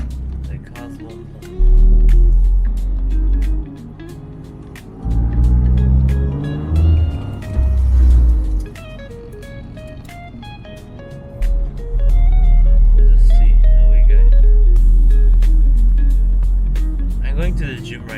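A Mazdaspeed car fitted with a new front-mount intercooler is driven, its engine rumbling low and swelling under acceleration between quieter stretches, while someone talks over much of the drive.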